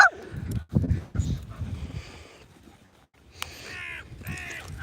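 Crows caw outdoors during a dog walk with seven dogs, several harsh calls coming in bursts, some near and some farther off, mixed with rustling, a voice and occasional dog sounds.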